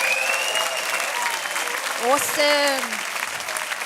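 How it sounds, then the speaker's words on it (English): An audience at a conference applauds each other in a sustained round of clapping, with a voice cutting in briefly partway through and whoops rising above the crowd. "one more round of applause for each other"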